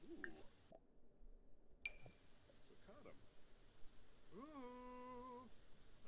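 Light rain pattering softly in the background in The Sims 4, with brief talk and a short tonal game sound partway through.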